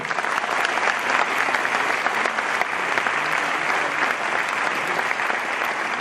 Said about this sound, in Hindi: एक माता पिता के लिए मेरे जोरदार गगनभेदी ताली